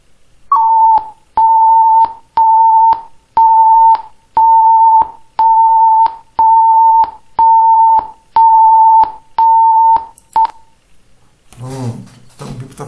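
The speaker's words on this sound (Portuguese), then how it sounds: "Vamos ver o som do BIP." Electronic beeps from a microcontroller timer program: about ten evenly spaced, steady single-pitch tones, each roughly half a second long, followed by a brief stretch of faint voice at the end.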